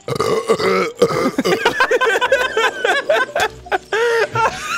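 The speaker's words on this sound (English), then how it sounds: "I'm gonna burp." A long, loud, gurgling burp rolls out up close, tangled with snickering laughter from nearby voices.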